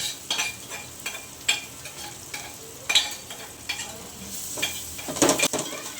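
Garlic paste sizzles in hot oil in a pan of browned onion and whole spices for chicken pulao, with repeated scraping stirs and a sharper burst of clatter near the end; close and steady, no talking.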